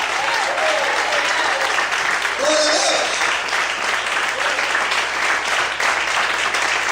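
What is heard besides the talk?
church congregation applauding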